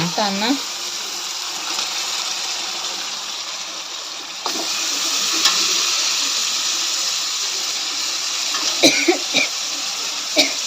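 Mutton frying in a pan in a village kitchen, a steady hiss and sizzle running throughout with occasional clinks and stirs, a voice talking over it at the start.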